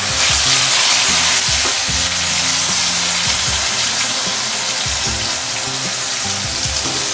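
A blended onion, tomato and ginger-garlic paste fries in a hot pan for bhetki fish kalia, giving a loud, steady sizzle with bursts of stirring and scraping and no voices.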